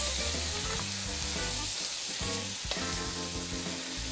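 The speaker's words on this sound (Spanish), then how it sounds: "bueno, pues sofreír esto un poquito" Finely chopped lobster sautéing for a salsa americana, a loud, constant dense sizzle of hot oil with occasional stirring scrapes, close and steady throughout.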